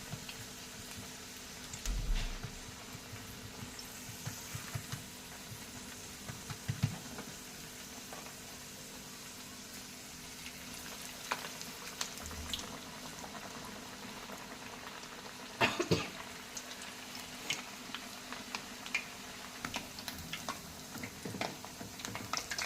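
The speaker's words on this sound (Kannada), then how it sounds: "ಕಾದ ಎಣ್ಣೆಯಲ್ಲಿ ಹಾಕಿ ಫ್ರೈ ಮಾಡಿ" Maddur vade frying in hot oil over a medium flame, a steady soft bubbling and sizzling with occasional louder pops and crackles, close by and with no talking.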